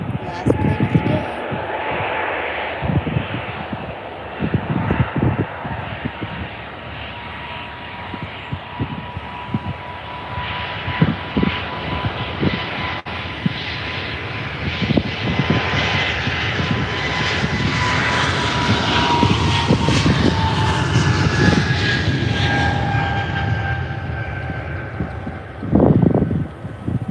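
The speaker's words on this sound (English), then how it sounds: "Last plane of the day." An airplane at Faro Airport passes with a steady engine roar that swells and slowly fades over nearly half a minute, heard from a distance with an occasional voice underneath.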